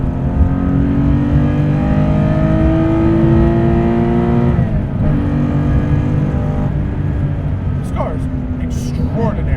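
A Guntherwerks 400R, a 431 hp car weighing 2660 lbs, revs hard through the gears. Its engine note rises in a long climb, drops briefly at a shift, then climbs again. A voice cries out near the end.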